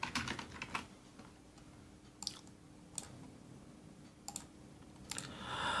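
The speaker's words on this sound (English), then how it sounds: "and I'm typing some words" Someone types words into Microsoft Word on a computer keyboard, producing sparse, soft key clicks in small irregular bursts against a quiet room.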